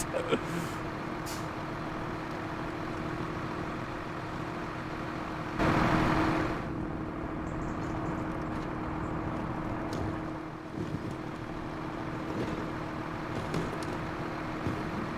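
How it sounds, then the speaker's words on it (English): Heavy truck engine rumbling steadily while hauling a fully loaded bouncing trailer in SnowRunner, Michigan map, with a brief louder burst partway through, continuous and close with no talk. "We're pulling the trailer, we got a full load."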